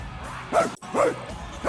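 A dog in Guardians of the Galaxy barks three times in quick, evenly spaced woofs, loud and close, with low game ambience beneath.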